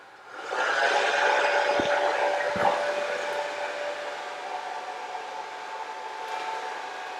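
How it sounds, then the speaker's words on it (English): Hair dryer heating plastic window insulation film in an apartment, switched on with a rising whoosh into a steady, close airflow hiss and whine that holds throughout, with a couple of soft handling bumps. "And then you just take the dryer and"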